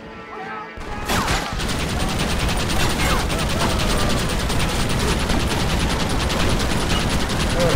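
Rapid, sustained Gatling gun fire during a fort assault in the video game Red Dead Redemption, a loud continuous rattle that starts abruptly after a second and keeps going, with crashing hits mixed in.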